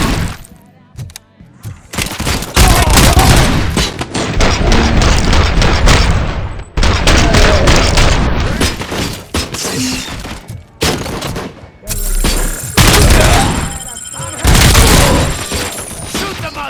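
A loud, close shootout in Robocop: Rogue City, with dense automatic gunfire, heavy booms and crashing impacts that keep going almost without pause, briefly dropping away before starting up again.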